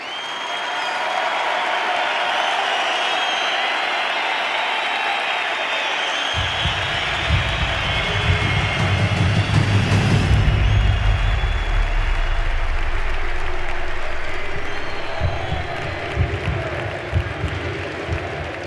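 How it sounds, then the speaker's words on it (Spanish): Loud, sustained applause from a conference audience at the Madrid Economic Forum welcoming journalist Iker Jiménez; a crowd murmur swells into heavy, dense clapping that builds, peaks, then tapers off near the end. "un fuerte aplauso porque tenemos aquí al periodista Iker Jiménez"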